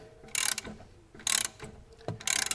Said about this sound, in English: clamp it in there, and then just gently push the piston all the way back in